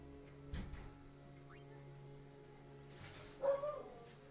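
A dog indoors barks at someone outside, a couple of short muffled barks and yips heard faintly through a wall, separated by a quiet background hum.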